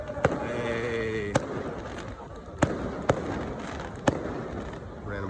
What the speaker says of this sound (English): Random fireworks.